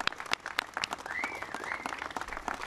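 An audience at a press update from Governor Josh Shapiro after a major fire in Harrisburg, Pennsylvania, breaks into applause, a steady spatter of claps from a moderately sized crowd with some whoops.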